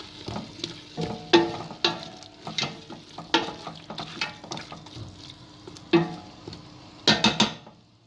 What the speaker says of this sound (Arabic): راح نخلط الكل مع بعض